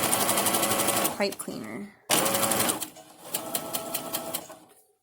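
A sewing machine stitches a fabric face mask with a pipe cleaner along the edge, its fast whirring needle running in loud bursts that stop and restart, while a person talks close by.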